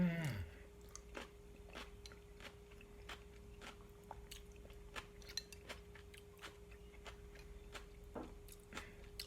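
Crunchy spicy, garlicky radish kimchi is chewed up close, with quick, sharp crisp bites repeating in a steady rhythm over a faint hum and no speech.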